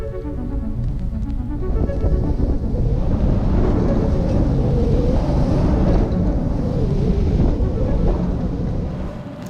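Steep waves and strong north wind at sea just outside Malmö harbor aboard a sailing boat, a loud continuous rush of wind buffeting and water surging, steady throughout.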